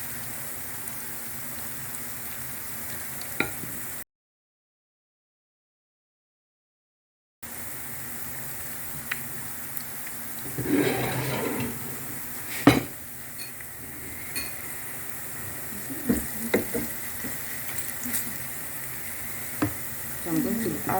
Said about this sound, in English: As you can see, the tomatoes is very fried. Very fried. You allow it to be very fried.